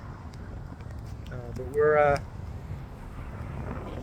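Strong wind on Chao Samran Beach rushes steadily across the microphone in a constant roar, and a person speaks briefly over it.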